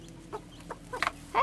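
Hens cluck while they are fed on a farm: a few short, scattered clucks and calls, close and fairly quiet, with a louder burst at the end and no talk.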